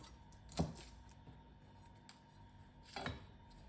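Knife slicing through squash on a cutting board while making Thai fish cakes, two distinct crisp chopping thuds about two and a half seconds apart, close and fairly quiet against a still kitchen.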